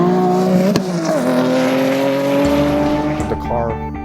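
A race car runs flat out on a track lap, its engine roaring loud and steady with rising and falling pitch through gear changes, a brief squeal of tires partway through, close and continuous.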